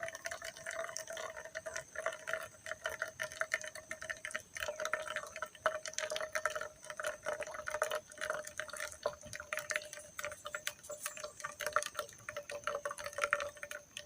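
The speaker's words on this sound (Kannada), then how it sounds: "ಚೆನ್ನಾಗಿ ಈ ರೀತಿಯಾಗಿ ನಾವು ಚಮಚ ಹಾಕಿ ಮೂಸಂಬಿಯನ್ನು ಸೋಸಿಕೊಳ್ಬೇಕು." Mosambi juice is pressed through a strainer with a spoon, giving soft, steady wet dripping and scraping. The sound is faint and continuous, and there are no voices.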